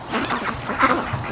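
Ducks from a free-range flock quack and honk nearby in short bursts, several calls overlapping, some close and loud, with soft outdoor background.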